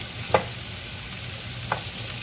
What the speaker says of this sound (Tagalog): Lahat na yan ng bell pepper. Red, yellow, and green. Ayan, continuous lang natin siya. Pag-mix. Hanggang ma-mix siya.